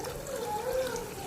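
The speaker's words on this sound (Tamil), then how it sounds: "இந்த ஸ்டேஜில் நம்ம கரைச்சி வச்சுருக்க புளி தண்ணி ஊற்றிக்கலாம்" Tamarind water pours into a vilai meen fish curry in a brief, steady, close trickle that lasts about a second.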